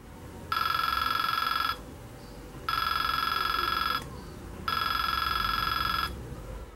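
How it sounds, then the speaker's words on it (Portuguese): Another remote control sets off an infrared receiver circuit, producing three separate bursts of a bright electronic buzzing tone, each over a second long with short silent gaps between, clear and alone. "Nesse circuito, o som emitido pode mudar. Vai depender da frequência emitida pelo controle remoto."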